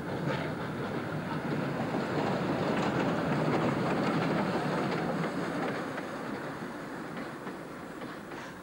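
A steam train, locomotive R761, rolls steadily along the rails from Ballarat to Maryborough, Australia, with a continuous clickety-clack and rumble, loud and close throughout, with no voices.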